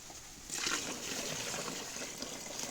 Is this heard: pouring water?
yes